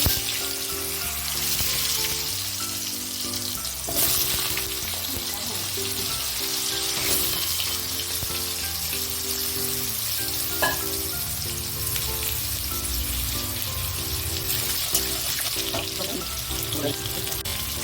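Steady crackling sizzle of potatoes frying in hot oil with bay leaves, continuous and close, with faint music playing underneath throughout.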